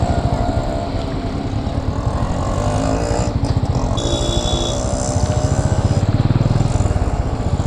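A motorcycle rides steadily along an open road, its engine a loud, continuous pulsing drone with wind rush, close and unbroken throughout, no talking.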